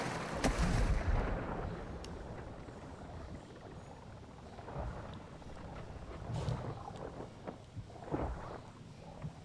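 In Call of Duty: Modern Warfare II DMZ, distant gunfire cracks across the map, starting with a strong report and followed by scattered, fainter shots at irregular intervals over a low ambient rumble.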